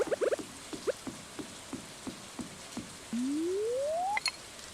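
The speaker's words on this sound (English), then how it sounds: "The rain. Have you ever seen the rain?" Rain falling in a farming-life video game, heard as sparse, soft pattering drops spaced across the clip, followed by a rising electronic tone that ends in a bright chime.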